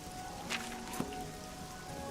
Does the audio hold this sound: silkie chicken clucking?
no